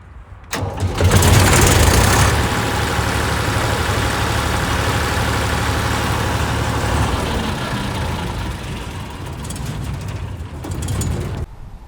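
FAHR M600 mini combine harvester engine starting with a loud surge, then running steadily at a rough, continuous drone for about ten seconds before cutting off, near and dominant.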